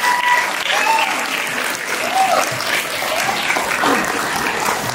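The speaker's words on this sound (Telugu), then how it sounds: "చప్పట్లు కొట్టడానికి ఇంత ఆలోచించారు ఎందుకు?" An audience claps at a Varalakshmi devotional event held by a Padmashali community association in Mumbai, producing dense, sustained applause that stays loud and steady for the whole stretch, with a few scattered voices mixed in.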